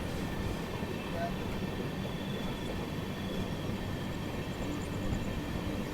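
A WAP-5 electric locomotive hauling a train accelerates while overtaking a MEMU train, giving a steady, moderately loud rumble of wheels and motors heard from inside, with a faint high whine over the top.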